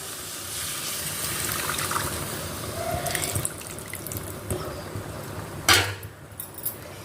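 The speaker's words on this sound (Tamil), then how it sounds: "இப்போ நம்ம கரைச்சி வச்சுருக்கக்கூடிய எலும் அதாவது வந்து இந்த புளி புளி கரைசலை இதோடு விட்டுக்கலாம்" Tamarind extract is poured into a pot of curry leaf kuzhambu, giving a quiet, gentle liquid trickle and splash with a few small clinks of utensils near the end.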